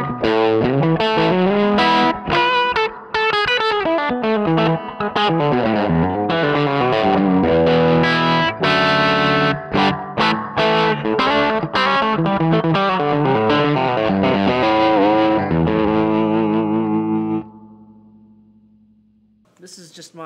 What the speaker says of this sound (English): It breaks up really well, and I've got the reverb up around half. A little tremolo going on.